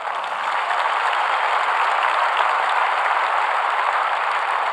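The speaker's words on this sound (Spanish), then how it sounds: "Dale fuerte ese aplauso a él." Steady, sustained applause from a congregation during a religious sermon, a continuous even wash of clapping with no voices over it.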